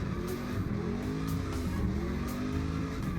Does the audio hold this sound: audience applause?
no